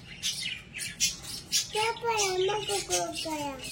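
Lovebirds chirp and squawk as the parents feed their chick, a run of sharp high calls followed by warbling tonal notes, close and fairly loud.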